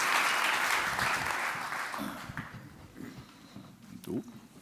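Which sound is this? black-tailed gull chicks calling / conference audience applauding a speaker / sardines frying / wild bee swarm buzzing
conference audience applauding a speaker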